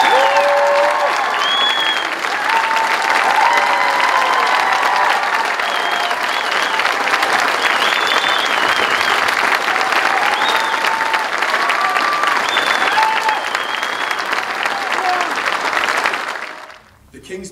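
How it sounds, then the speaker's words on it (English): An outdoor crowd at a Royal Marines King's Squad pass out parade applauds and cheers steadily for about sixteen seconds, with scattered whoops over dense clapping, before it fades out at the end. "Please feel free to clap, cheer, whoop, holler, and all that good stuff."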